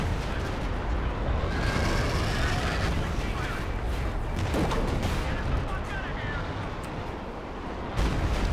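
Video-game artillery strike sweeping across the whole map in a straight line, a dense continuous roar of booming blasts and rumbling explosions filling the whole clip, loud and close.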